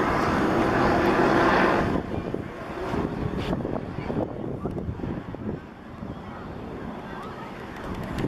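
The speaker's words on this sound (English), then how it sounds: "A jet overhead" A jet aircraft passing overhead at Inspiration Point above Newport Bay in Corona del Mar, California: a broad, steady roar that is loudest at first and then eases into a lower rumble, mixed with wind buffeting the microphone.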